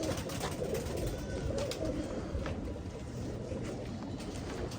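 Rampuri pigeons coo softly in a loft, a low murmuring blur of calls with faint scuffling and background noise throughout.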